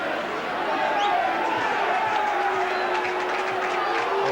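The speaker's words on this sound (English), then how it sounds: "the crowd's setting up a bit of an unfortunate chant here" A rugby league crowd at a Bradford versus Australia match sends up a sustained chant, a dense roar of many voices that swells across the stands in the distance.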